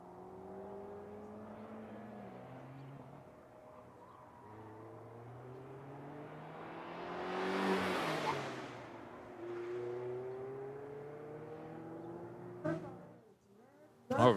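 A 2019 Mazda MX-5 race car at an autocross starting line holds a low engine note, then swells in a revving pass before easing off, with distant hum and a few sharp noises near the end.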